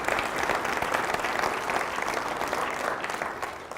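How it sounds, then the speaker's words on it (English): A lecture hall audience at a symposium closing session applauds the panel, with steady dense clapping from many hands that holds evenly and tapers slightly at the end. "Please give them all a round of applause for a wonderful program"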